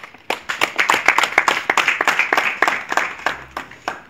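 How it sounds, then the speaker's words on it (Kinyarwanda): An audience claps together in applause at a Kinyarwanda gathering of fewer than fifty seated guests, a dense burst of many hands that is sustained and fairly close for about four seconds, with no voices over it. "ndagira ngo tuyihe amashyi Imana"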